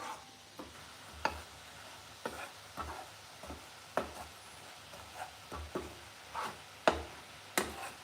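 Jaggery syrup mixture stirred in a pan: faint, irregular spoon scrapes and clicks roughly every half second over a quiet bubbling background, with no speech.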